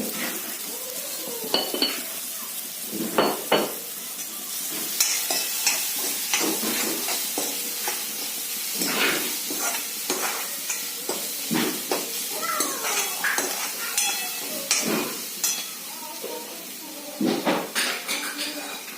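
Dal batti ingredients stirred and sautéed in a pan, sizzling under repeated scraping and clinking of a spoon against the metal, close and uneven in rhythm, with no speech.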